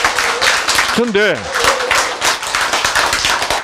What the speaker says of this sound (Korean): 이 박수 소리가 확실히 다르거든요